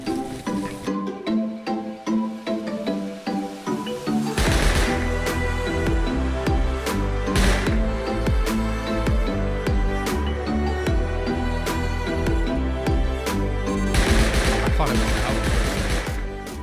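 A custom auto turret fires in the video game Rust, giving sustained rapid automatic gunfire with heavy repeated bursts over a musical, busy game mix.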